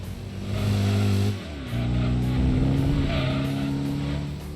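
Cougar car engine revving in the video game Gran Turismo 2, a buzzy, bee-like drone that holds steady, dips briefly, then climbs and sustains at high revs, loud and alone.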